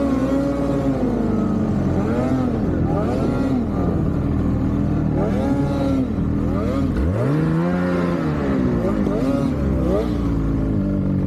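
Turbocharged Case IH 9R tractor engine racing an 858, revving hard with repeated rising and falling pitch sweeps and a deep drop near the end, loud and steady throughout.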